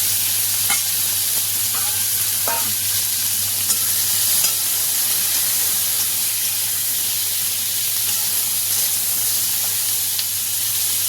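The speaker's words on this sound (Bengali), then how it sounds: "এই তেলেই আমি কাঁচকলা আলুটাকে একটু ভেজে" Green banana and potato pieces fry in a pan of oil with a steady, close sizzling hiss that runs unbroken throughout, along with a few faint stirring clicks and a low hum underneath.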